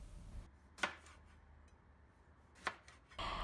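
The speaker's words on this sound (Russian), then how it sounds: "Сюда же нарезаю овощи, сладкий перец средним кубиком." A knife cuts sweet peppers into medium cubes on a board, with two sharp isolated chops spaced well apart over a quiet kitchen background, ending in a brief louder scraping rustle.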